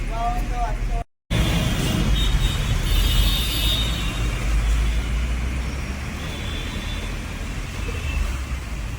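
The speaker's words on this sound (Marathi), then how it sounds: "ट्रॅफिक बघा ट्रॅफिक खूप आहे ना" Heavy road traffic on the way to Wadala heard from inside a car, a continuous low rumble of engines and tyres with a brief dropout near the start, and people talking over it.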